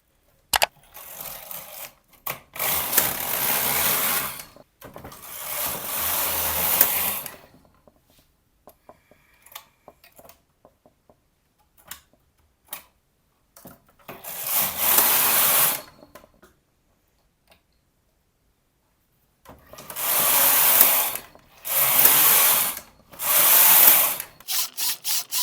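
A knitting machine carriage runs across a row at tension 10, making several loud, sweeping mechanical rasps a few seconds long, separated by quiet gaps with light clicks.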